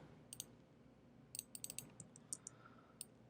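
Sharp keyboard clicks while pressing copy and paste shortcuts during Photoshop work, in short clusters of two and three keystrokes spread across a quiet background, close and crisp.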